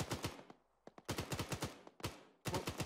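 Rapid automatic gunfire in the video game Arma 3, several sharp bursts of shots with brief pauses between them, loud and close, no talk over it.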